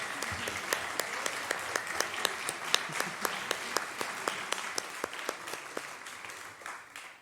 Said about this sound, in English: Let's give them all one more hearty round of applause for their hard work and dedication.